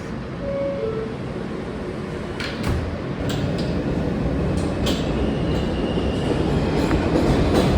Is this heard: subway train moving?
yes